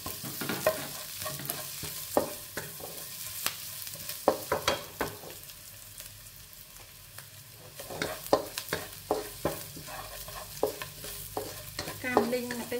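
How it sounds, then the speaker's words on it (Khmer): Satay chili and garlic stir-fried together for a shrimp dish, a soft sizzle broken by frequent scraping and clinking strokes of a spatula against the pan. "កាមលីងម្ទេសសាតេជាមួយនឹងខ្ទឹមសយើងកុំឲ្យវាខ្លោច"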